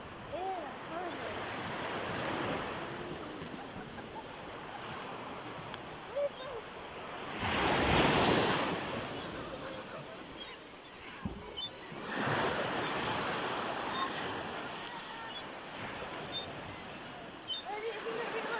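Ocean waves wash onto a beach during an evening walk, a continuous broad rushing roar that swells loudly midway and again later, with wind buffeting the microphone.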